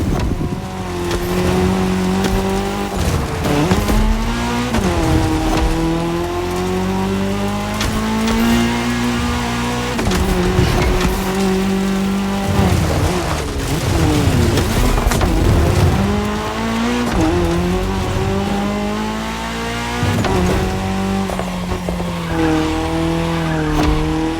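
Race cars in The Crew Motorfest tear across tarmac during a cross-terrain race, with loud engines revving and shifting over and over, repeated tire squeals and skids, and no talking.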